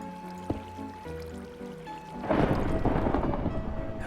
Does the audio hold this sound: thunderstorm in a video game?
yes